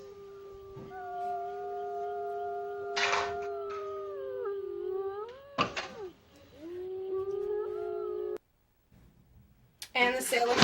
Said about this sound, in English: Another good one is the gray wolf.